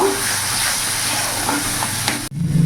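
Rohu fish masala with turmeric, Kashmiri chilli and cumin powder is stirred in a hot pan, sizzling loudly and continuously with scraping, until an abrupt cut and a brief change of sound at the very end.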